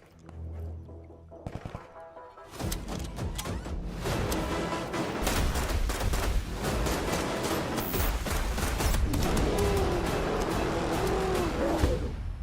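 Gunfire from the Lost Rift video game trailer comes as rapid bursts and fusillades under a loud, dense mix of effects and music, building after a quieter opening.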